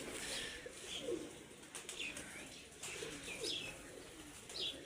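Kajal breed pigeons coo softly in a rooftop loft, with repeated low coos spread through the clip alongside a few higher chirps and a faint background hum.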